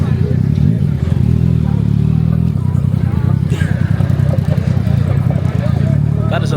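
Motorbikes riding through Lisbon street traffic, a steady close engine drone with mid-pitched revving and clatter that holds throughout, alongside people talking.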